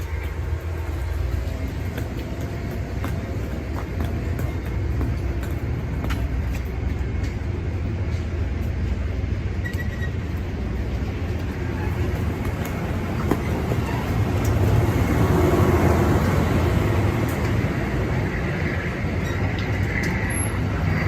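Amtrak's Capitol Limited passenger train pulls out of a station in steady continuous rumble, with rolling wheels and low mechanical drone holding at an even, fairly loud level throughout.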